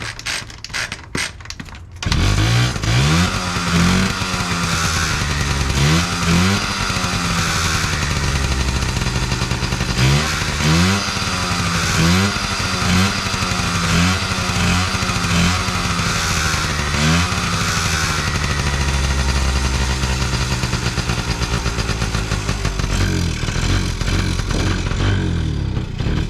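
A Honda Express NC50 scooter engine with an aftermarket carburetor runs loudly up close, its small two-stroke buzz rising and falling in repeated throttle blips over a rattling mechanical idle.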